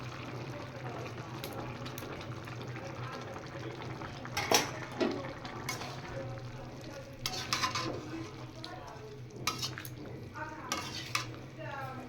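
Sauce stirred into chilli chicken frying in a pan, a steady soft sizzle beneath scraping and clinking of a spoon against the pan, with a few louder stirring knocks midway.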